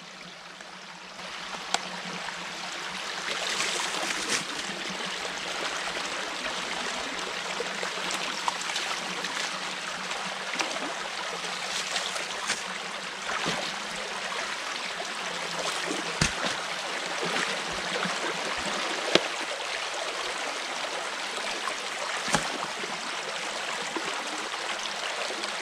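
A stream runs steadily with a strong, even rushing flow after a beaver dam has been removed, with a few faint knocks and no talking.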